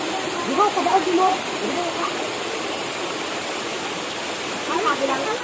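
A flowing stream where children bathe makes a steady, broadband rush of water throughout, with voices briefly audible over it near the start and again near the end.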